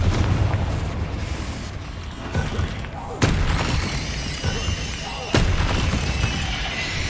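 Confringo blasting spell going off in Hogwarts Legacy: a sustained roiling rumble with two sharp, loud blasts a couple of seconds apart, each followed by a crackling, ringing tail.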